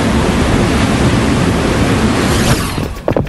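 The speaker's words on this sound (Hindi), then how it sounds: "पानी लीक हो रहा है।" Loud, steady rushing of water gushing from burst pipes fills the scene as a dense, unbroken roar that cuts off abruptly near the end, with a few short knocks after.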